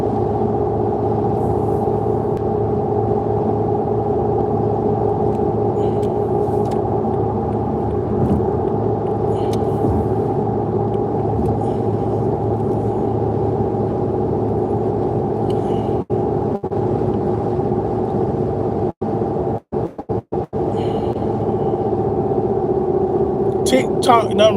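Inside a moving car, a steady loud drone of engine and road noise fills the cabin, with a few brief dropouts and clicks near the end and no one speaking.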